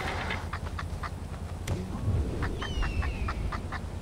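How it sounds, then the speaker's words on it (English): A bird in Far Cry 4 lets out a run of short, repeated calls, quacking and squawking amid a busy, noisy game scene with a low rumble underneath. "Bird!"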